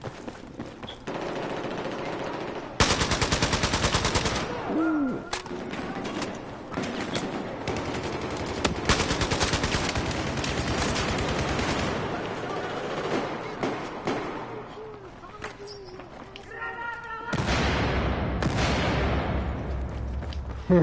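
Repeated bursts of AN-94 rifle fire ring out in a Battlefield 4 firefight, loud, rapid automatic volleys separated by brief pauses and mixed with other battlefield gunfire and explosions.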